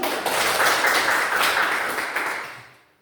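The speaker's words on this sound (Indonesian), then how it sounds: "Tepuk tangan." Hands clapping steadily and fairly loudly after a children's Sunday school lesson, a dense burst of applause that holds for over two seconds and then fades out to silence.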